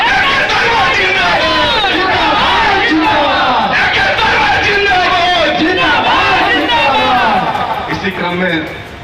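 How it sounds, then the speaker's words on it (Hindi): A large crowd at a political rally in Madhuban shouts and chants slogans together, a loud, dense roar of many voices that holds steady and eases off near the end. "इसलिए जोरदार ताली और नारा दीजिए।"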